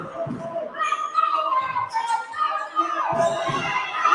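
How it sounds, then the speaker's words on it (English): Crowd noise in a gym during a women's college basketball game, cheering and shouting voices rising and falling, with a few thumps underneath. "The crowd noise is getting into it a little bit."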